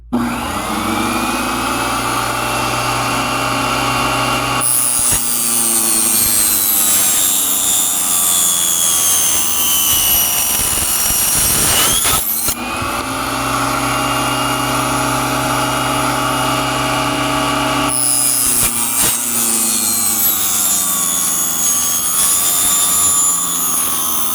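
A wooden dowel being cut down for an anchor chain part by a loud, continuous power cutting tool that whines steadily for long stretches, with brief dips and changes in pitch as the blade works through the wood.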